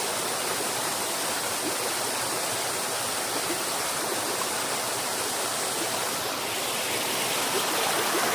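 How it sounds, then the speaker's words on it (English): Steady, full-band rush of a stream flowing over a wet hiking trail at Paris Mountain's Sulphur Springs Trail, a close, continuous wash of water with no voices, even in level throughout. "The water flowing."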